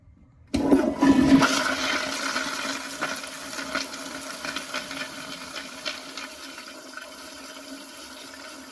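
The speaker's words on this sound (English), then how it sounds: "Now this is really how that toilet's supposed to flush." Close-up toilet flush: an abrupt roar of rushing water that slowly fades into gurgling refill over several seconds.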